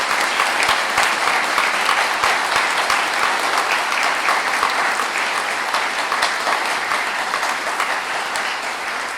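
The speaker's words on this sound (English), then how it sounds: "Please give him a round of applause because he deserves it." A large audience at the Royal Bath claps loudly in sustained, dense applause that continues steadily for several seconds and fades slightly toward the end.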